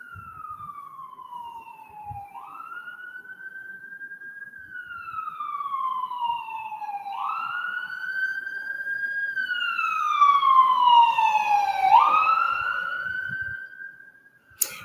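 An emergency vehicle siren wails in long rising and falling sweeps, growing steadily louder as it approaches and then cutting off abruptly at the end. Faint background noise sits underneath.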